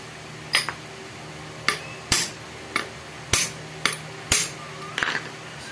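Sharp metallic hammer strikes on an electric fan shaft ring out one at a time, about eight blows at an uneven, unhurried pace, close by with a faint hum underneath.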